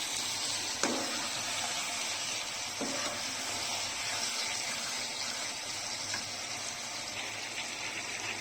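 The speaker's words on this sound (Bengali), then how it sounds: "এখন মশলার সঙ্গে চিকেনটাকে ভালো করে মিক্স করে নিচ্ছি।" Chicken is stirred and mixed with spices in a pan for a curry, giving a steady low sizzle with occasional scraping clicks of the spoon.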